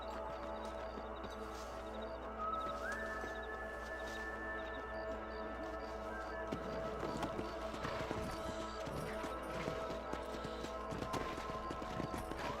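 Horse hooves clip-clop in the Western video game Red Dead Redemption, a quiet, rhythmic trot that grows busier in the second half over soft game ambience and music.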